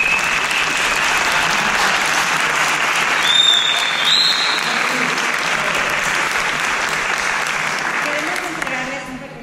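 Applause from an early-music ensemble's concert audience for the ensemble's director, a full steady wash of clapping with voices speaking over it, tapering off toward the end.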